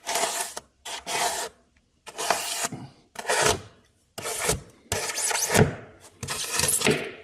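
Foam for N scale model railroad rocks is whacked from all directions, producing a series of about seven sharp, close scraping bursts separated by short silences.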